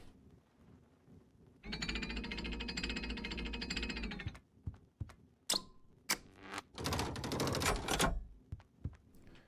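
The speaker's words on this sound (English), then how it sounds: "It's kind of sounds like gears clicking together or something." A video game sound effect resembling gears clicking together: a sustained mechanical rattling burst, then scattered sharp clicks and a second dense rattle, moderately quiet, with no talking.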